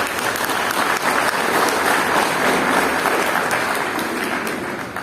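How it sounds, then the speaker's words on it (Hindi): Audience applause at a Hindu scripture talk, loud and steady, filling the whole stretch as a dense wash of clapping from many hands without break. "ये पता नहीं तालियां क्यों बजाते हैं।"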